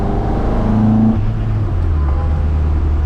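Ford Mk1 Escort rally car engine running while driving on a wet surface, a loud steady close-up drone with a pitch shift partway through as the throttle changes.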